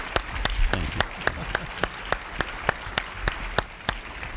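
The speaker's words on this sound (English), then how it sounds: "let's give him a round of applause" An audience at an Economic Club of Indiana event applauds with a steady wash of clapping, punctuated by sharp, evenly spaced louder claps throughout.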